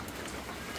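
Soft, steady rain patters in a faint, even hiss with no voices.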